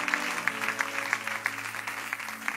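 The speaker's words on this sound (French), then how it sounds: "Acclamons la parole de Dieu" A church congregation claps in a steady, rhythmic beat, fairly faint and distant, with no talk over it.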